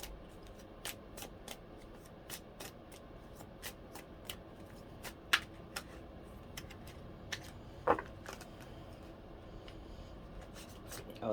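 Twin Flame Infinity Oracle cards shuffled close up, quiet and sparse: soft papery riffles and scattered light clicks and taps over about eleven seconds, with a couple of sharper snaps.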